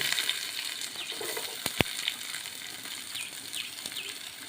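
Steady, fine sizzling of shallots frying in hot oil with popped mustard seeds, with a couple of sharp crackles partway through.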